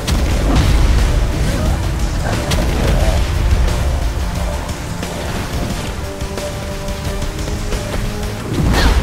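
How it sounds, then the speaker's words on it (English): Dense, loud rumbling blasts and booming bursts fill the whole stretch, a continuous roar of explosions in Saints Row IV: Re-Elected with crackling debris on top. "This explosion totally freaks me out."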